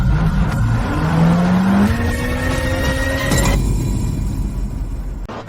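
A car approaches with its engine revving hard, the pitch climbing steadily and loud before cutting to a steady high drone, with no talk over it.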